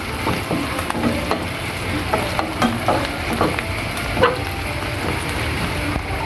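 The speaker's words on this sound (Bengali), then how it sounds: "এটা কিন্তু ভালোভাবে নাড়াচাড়া দিয়ে নিচ্ছি" Rohu fish roe with turmeric is stirred in a sizzling frying pan, a constant close hiss of frying broken by repeated scraping and clinking of the spoon.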